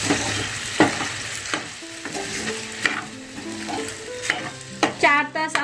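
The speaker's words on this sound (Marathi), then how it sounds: "आपल्याला चांगलं असं फ्राय करून घ्यायचं पाहिजे तेलात" Soaked sabudana (tapioca pearls) sizzling as it fries in hot oil, a steady crackle with repeated scrapes and clinks of a spoon stirring through the pan, close and clear with no talk.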